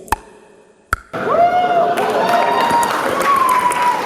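An audience at a Kinshasa music festival applauds a singer. Sustained crowd clapping and cheering swell in after a brief quiet start, with a whistle or voice tone riding over the noisy wash.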